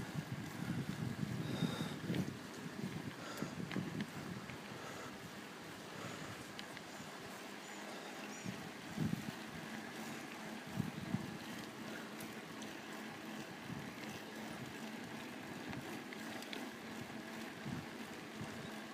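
Steady wind rushing across the microphone during an outdoor bike ride, a broad continuous roar with low gusty rumbling, strongest in the first few seconds and holding throughout without speech.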